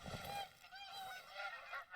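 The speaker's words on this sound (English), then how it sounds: "Oh, I think there's some more landed geese nearby." Several landed geese honk in a hunting video game, trading repeated nasal calls that overlap and carry from a short distance over a quiet outdoor background.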